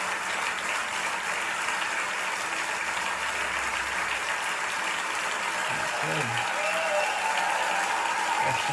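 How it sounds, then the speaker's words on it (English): Recorded applause plays through a Marantz CD5400 CD player and amplifier, a steady dense clapping that fills the whole stretch at moderate level, with a few faint low knocks and hums near the end. "some applause."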